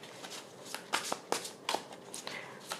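Tarot cards being shuffled by hand: faint, close, irregular papery riffles and slaps in uneven bursts over a few seconds, with no voice.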